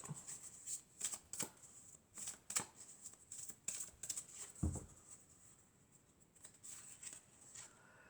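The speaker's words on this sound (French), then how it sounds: "On va prendre encore une carte" Tarot cards are handled during a reading, making a run of crisp, papery snaps and flicks. A brief thump lands partway through, then the sounds thin out into quieter rustling.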